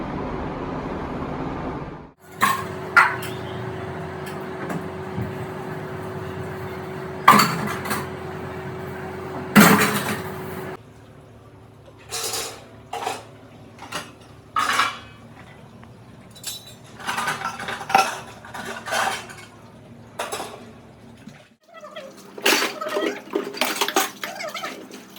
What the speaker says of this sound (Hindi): तो गाइस मैं बर्तन वॉश करूंगी।